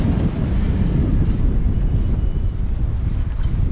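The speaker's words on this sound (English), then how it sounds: "never seen waves that big in my life." Huge ocean waves and strong wind surround a sailboat on an Atlantic passage from Jamaica to Panama, making a loud, unbroken roar with heavy rushing wind buffeting close by.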